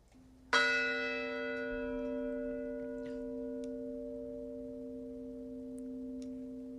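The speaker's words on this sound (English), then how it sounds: "Yep, that was one bell." A single bell strikes once, clear and resonant, its tone ringing on and slowly fading over several seconds in a quiet space.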